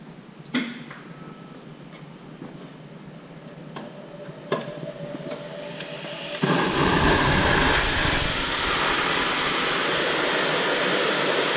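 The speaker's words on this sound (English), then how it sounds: "It's going to get a little bit noisy now while I put the air compressor on." An air compressor kicks on partway through a soldering job, its steady, loud rushing hum abruptly replacing a quiet stretch of faint ticks and taps and then running on without a break.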